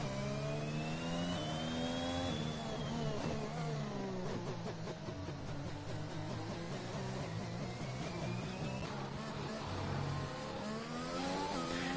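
Formula-style race cars in a sim racing video game run in a pack behind the safety car at the Brazil circuit. A steady, loud engine drone shifts in pitch through the whole stretch, with no talking.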